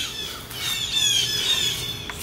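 Birds squawk outdoors in a steady, shrill chorus of overlapping high calls, fairly loud and continuous throughout, with no voices heard.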